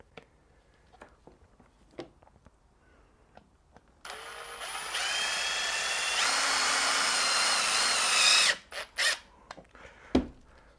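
A power drill drives black screws to mount a housing during an accessory harness install on a Ford Ranger or VW Amarok: a steady whirring run of about four seconds that rises at the end, framed by quiet handling taps.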